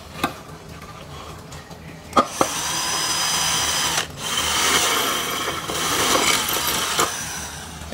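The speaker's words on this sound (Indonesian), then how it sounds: "kita angkat terlebih dahulu dan kita langsung bor ya di sebelah sininya" A power drill bores a hole into the housing of a 100 W LED floodlight, its steady whine running loud and close for several seconds, with brief clicks and pauses between bursts.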